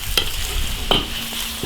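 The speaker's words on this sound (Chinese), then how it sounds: "下五花肉，煸炒。" Pork belly stir-frying in an iron wok, a continuous close sizzle broken by a few sharp scraping strokes of the spatula against the metal, no voices.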